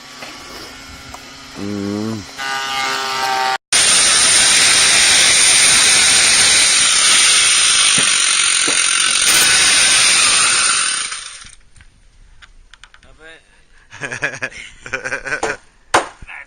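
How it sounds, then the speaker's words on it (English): A power planer planing wooden roof rafters at a shipyard, a loud, sustained whining roar of about eight seconds that stops abruptly, followed by quieter workshop knocks. "There he's hitting it on the planer. Planing up some of the rafters."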